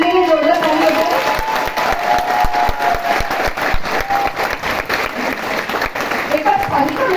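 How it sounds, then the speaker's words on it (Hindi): An audience at a Modicare event in Sai Auditorium, New Delhi, applauds loudly for a team, clapping that swells and thins across the room with cheering and voices mixed in. "एक बार मनोज बल्ली जी की जो पूरी टीम के लिए जोरदार ताली हो जाए।"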